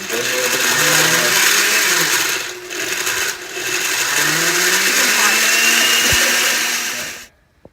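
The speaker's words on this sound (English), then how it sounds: "The buzzer of the blender." Blender on its frozen-drink setting crushing ice for a frozen gin and tonic, a loud close motor roar that pauses briefly, starts again and then cuts off.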